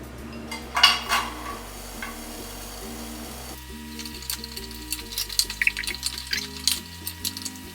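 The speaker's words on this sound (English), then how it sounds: "Wait for it to get hot, add some oil to the bottom. I'm gonna add my carrots." Carrots go into hot oil in a pot on the stove, giving a soft sizzle with clinks of utensils and stirring, moderately close under background music.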